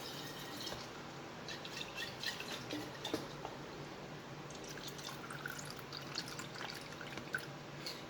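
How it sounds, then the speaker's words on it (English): Water trickles and drips into an emptied sauce bottle in a home kitchen, a quiet, close, irregular sound of splashing and dribbling with no talk over it. "I'm going to put some water in it so I can thin it out a little"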